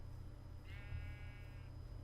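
A single Minecraft sheep bleats once, a short wavering cry standing alone against a low background hum.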